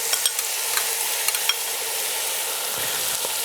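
Garlic softening in a pan for bolognese sauce, a steady close sizzle with light stirring scrapes and a few soft clicks near the start, no voices.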